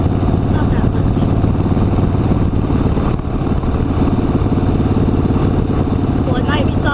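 A motorcycle engine runs steadily with a loud, constant low rumble through the whole stretch, heard close from on board, with voices speaking over it.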